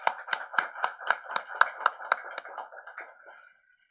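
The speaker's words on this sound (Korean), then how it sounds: "우리 함께 박수로 격려해 주시기" A small church congregation claps together at a year-end worship service, giving a steady run of about a dozen sharp, even claps that fade out after roughly three seconds.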